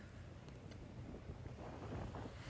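Strong wind buffets the microphone on a beach after a storm, a steady roaring rush with rough surf churning underneath, loud and continuous throughout.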